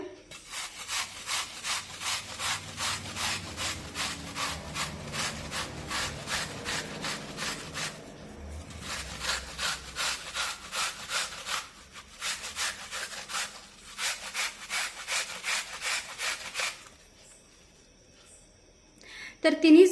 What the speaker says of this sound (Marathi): आता हे सफरचंद आपण किसणीने किसून घेऊया